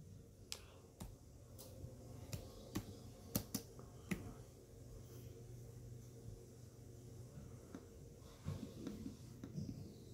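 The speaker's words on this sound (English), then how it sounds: "Sorry, I typed in a Q by accident." Scattered keystrokes on a Chromebook keyboard sound as sharp, quiet clicks at an irregular pace over a faint room hum.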